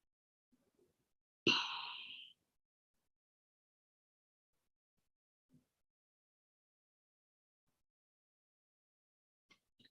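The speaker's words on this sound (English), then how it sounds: "Take a deep breath." A single deep breath during a guided meditation, one soft sigh-like exhale lasting under a second in otherwise near silence, with a few faint small noises later.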